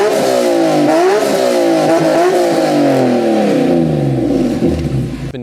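A BMW E46 M3 engine revs through a custom exhaust, a loud close rumble climbing and dipping in pitch over several pulls before settling into a falling, smooth note with little rasp.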